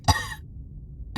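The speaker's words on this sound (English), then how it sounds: "Why are you coughing so much?" A single short, rough cough from a character in the video game A New Beginning, then near silence before another sound begins.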